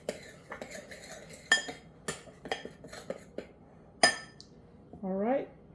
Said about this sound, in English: I'm just going to stir these dry ingredients up a little bit just to mix that sugar and salt up in there